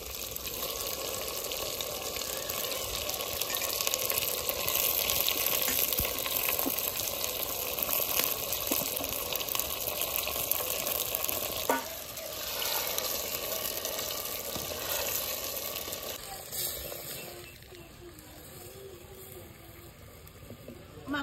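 Mutton sizzles and fries in a clay handi cooking pot, a dense, steady crackling hiss that dips and thins out near the end.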